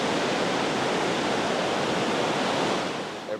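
Large ocean waves around 6 to 8 feet tall pound against a wall, producing a continuous loud roar of surf and spray that fades slightly near the end.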